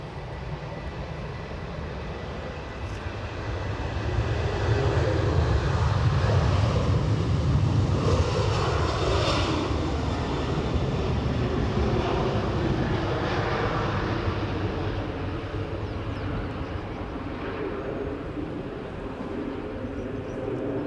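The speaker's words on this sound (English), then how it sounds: "Plane on shot is off to Gothenburg." A fixed-wing airliner takes off at Edinburgh Airport bound for Gothenburg, a broad engine roar swelling into a loud peak midway, then slowly fading, with wind buffeting the outdoor microphone throughout.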